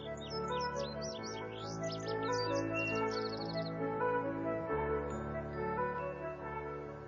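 Wild birds chirp and trill in short, quick bursts during the first half, over a steady hum of background sound, in the mountain forest of Shenandoah National Park.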